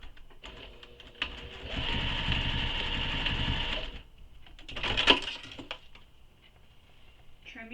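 A sewing machine stitches a tote bag in a close, steady whirring burst of about three seconds, followed by a shorter second run, with light handling clicks in between.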